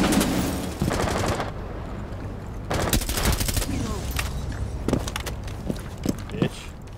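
Gunfire rattles in a competitive shooter match, with loud bursts of automatic fire and scattered individual shots over a steady game background, while people talk in between.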